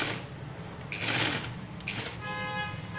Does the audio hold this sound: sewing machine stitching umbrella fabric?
yes